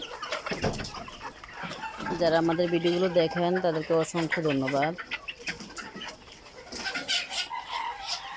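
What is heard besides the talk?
chickens clucking while eating and drinking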